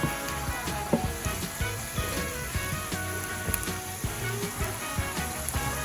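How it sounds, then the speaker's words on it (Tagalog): Onions caramelizing alongside pork chops in a frying pan, a loud, dense sizzle and crackle with rhythmic stirring knocks repeating throughout. "Ito nag-caramelize na onion."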